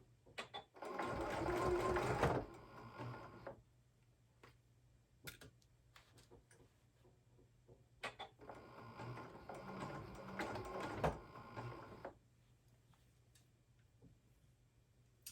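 Sewing machine stitching the seam of a cat sling in two quiet bursts of rapid, close ticking, each about two to three seconds long, with a faint steady hum between them.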